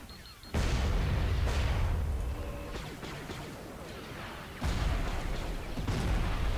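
Bombs explode in a Star Wars video game, with two heavy booming blasts a few seconds apart, each followed by rumbling debris and crackle, loud and close, with no voices.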